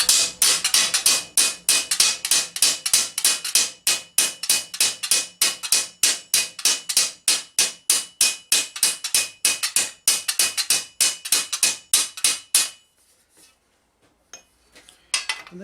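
A ball peen hammer strikes a steel greave to shape an ankle bump, a rapid, steady run of sharp metallic blows, loud and close, stopping abruptly with quiet after.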